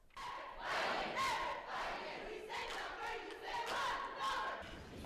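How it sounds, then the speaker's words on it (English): Lansing students at an anti-bullying rally, joined by the Everett High School cheerleaders, raise loud, close group cheers and chanted shouts in repeated swells, with a crowd roaring throughout. "Lansing students cheer on classmates in the fight against bullying"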